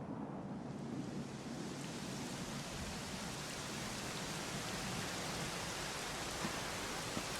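Steady, dense rain in Dragon Quest XI pours down in an even wash of hiss, with a low rumble underneath and no voices throughout.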